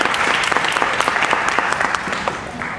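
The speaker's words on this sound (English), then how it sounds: "Please give yourselves and the competitors a round of applause for being here." Audience at a show clapping continuously, a dense, steady wash of many hands with a few sharper claps standing out, close and loud.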